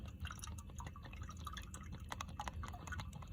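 Five quarts of motor oil pour through a big-mouth funnel into the engine of a 2009–2015 Nissan Maxima 3.5L V6, making quiet, irregular glugging and dripping with soft liquid splashes throughout.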